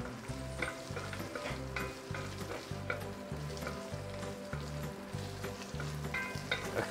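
Braising pork leg with spices is stirred in a cast iron pot, producing soft sizzling and utensil clinks over a steady rhythmic low hum.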